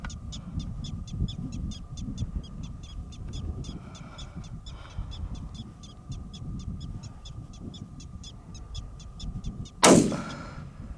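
A single sharp, loud rifle shot cracks out near the end during a pronghorn hunt, following a long stretch of steady chirping insects or birds and low wind rumble in open country.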